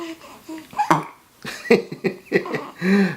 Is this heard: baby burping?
yes